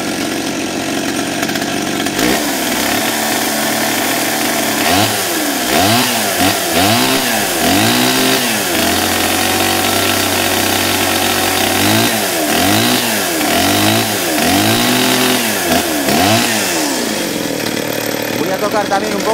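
A McCulloch chainsaw with its idle raised runs steadily, then revs repeatedly in rising and falling bursts, settles to a high idle, and revs again in another series of pulls; someone talks over it.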